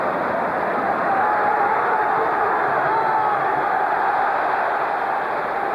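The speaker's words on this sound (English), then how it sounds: "Crowd trying to influence the linesman." A football crowd at a Celtic versus Rangers match roars steadily, pressing the linesman with a broad, sustained wash of massed voices that holds loud and even throughout without a break.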